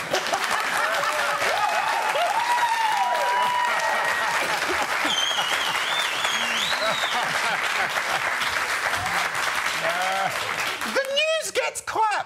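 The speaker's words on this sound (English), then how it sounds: "I find the ridiculous audience clapping that gives me a feeling of farce." A television studio audience applauds steadily and loudly for several seconds while voices talk over it, and the clapping thins out toward the end.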